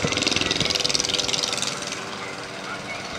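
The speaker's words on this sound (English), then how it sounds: "Well, now we got motorbikes." Motorbikes roll past in a small-town harvest parade, a loud, throbbing engine drone with a fast pulsing rhythm that eases off partway through, heard close by.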